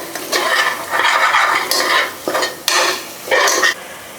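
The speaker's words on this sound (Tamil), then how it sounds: "இதை போட்டு ஒரு 10 செகண்ட் வதக்கி விடலாம்." Ginger garlic paste and red chilli powder sautéed in a pan for mutton biryani, heard as close repeated scraping stirs with a spoon against metal in several bursts over a soft sizzle, with no talking.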